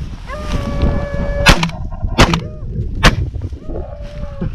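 Three sharp shotgun blasts during a rabbit hunt in grassy country, each loud and close, spaced under a second apart, with hounds baying and yelping between the shots.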